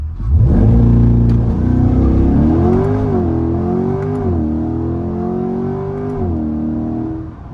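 A Chevrolet C8 Corvette launches hard under launch control on a country road, its engine roaring loud and close as it revs up and pulls through several gear shifts, the pitch climbing, dipping and climbing again over about seven seconds.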